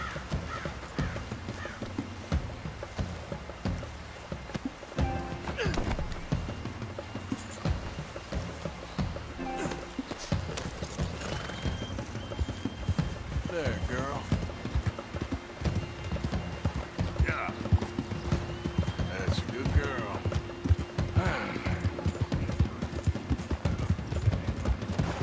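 Hooves clip-clop in a steady galloping rhythm from a white Arabian horse in Red Dead Redemption II, with an occasional whinny, over a busy background of game sounds.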